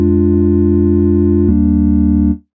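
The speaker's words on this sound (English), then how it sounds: "Just gives me that super simple sine wave tone." Simple sine wave synth chords from the Massive X software synthesizer, two sustained pure-toned chords, the first held and the second changing at the midpoint, then cutting off cleanly with no talk.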